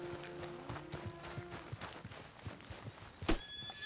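Horse in the video game Red Dead Redemption 2 whinnying with a long, wavering neigh near the start, accompanied by steady clip-clop hoofbeats and a brief sharp knock partway through, fairly faint and without talk.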